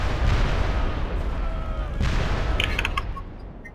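Booming cannon shots in Medieval II: Total War, with a rumbling low end, followed by a few sharp crackling impacts near the end.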